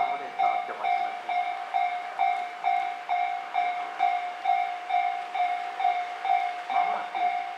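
A Tobu Tojo Line local train pulls into a station platform between Tokiwadai and Naka-Itabashi during the weekday morning rush, with a steady high tonal whine over a regular clickety-clack of wheels across rail joints, fairly loud and close.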